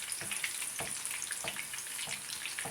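Steady frying sizzle of an egg foo young mixture in vegetable oil, with crackling bursts, close and even throughout, no voices.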